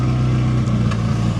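A McLaren 570S idles with its engine not yet warm, giving a deep, steady, loud rumble close by that stays even and unrevved throughout.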